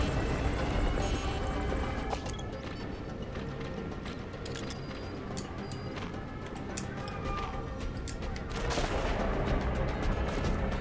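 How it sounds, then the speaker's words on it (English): Helicopter in the Metal Gear Solid V: The Phantom Pain video game, a dense churning drone buried under heavy bursts of gunfire and battle noise for the whole stretch. "I was hoping the helicopter would have moved on by now, but I guess not."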